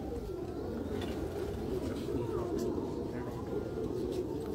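Heera Laal breed pigeons coo softly and steadily in the background while someone talks over them.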